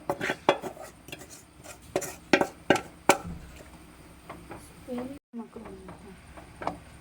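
Metal utensil clatters and scrapes as cooked chicken is tipped into pasta in a pan and stirred, with a run of sharp knocks in the first few seconds and softer scraping after, under steady talking.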